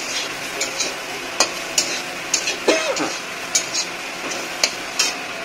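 Maggi noodles mixed with pouch masala are stirred in a frying pan. A spatula scrapes and taps the pan in a regular rhythm over a soft, constant sizzle.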